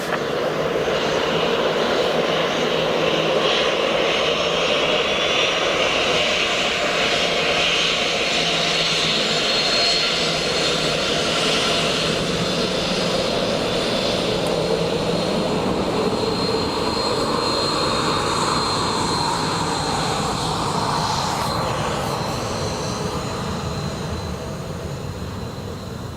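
A four-engine Antonov An-12 turboprop on approach to Dublin Airport, a loud continuous drone and propeller roar that holds steady for the whole stretch and shifts slightly in pitch as it passes, with no one talking.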